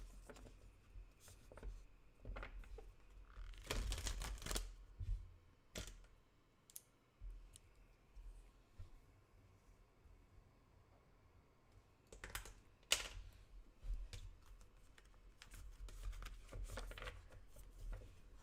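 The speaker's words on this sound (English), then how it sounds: "I'm going to start shuffling the cards." Tarot cards are shuffled by hand at close range in quiet, soft bursts of riffling and snapping card edges with brief pauses between them, and no talk over them.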